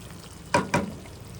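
Chicken curry cooking in a pan as a thin gravy, with two short, close scraping stir strokes over a faint, steady simmer and no voices.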